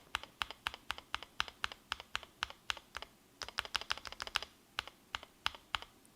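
Typing on a custom Tofu 65 keyboard with Tealios V2 switches and PBT keycaps produces crisp, close individual keystroke clacks in an uneven rhythm, some quick runs and some spaced presses, with no talking.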